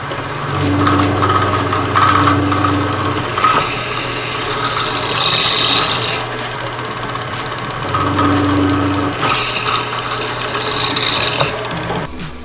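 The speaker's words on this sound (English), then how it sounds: "I'm going to use a drill press in stainless steel" A drill press bores holes into stainless steel, its motor humming steadily while the bit grinds and squeals in longer spells, loud and close with brief easing between cuts.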